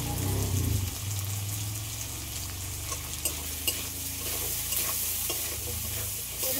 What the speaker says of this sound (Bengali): এগুলো সব একসাথে একটু ভেজে নিই।